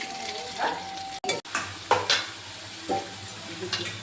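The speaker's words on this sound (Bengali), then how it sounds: "এই দেখো পটল ভাজা হচ্ছে" Pointed gourd sizzles steadily in hot oil while a utensil scrapes and stirs the pan now and then.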